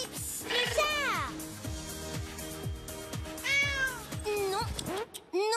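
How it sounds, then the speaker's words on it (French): A cat meows repeatedly in a bright, insistent voice, close and clear, with several drawn-out calls over a steady background of rhythmic music and a brief trailing noise at the end. "le chat!"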